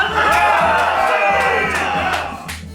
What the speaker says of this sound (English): The knights respond and cheer.